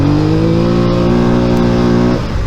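A 2022 Polaris Sportsman XP 1000 S, a 1,000-pound ATV on truck tires, revs hard with a rising engine note that holds, then drops off abruptly near the end, loud and close with no talk.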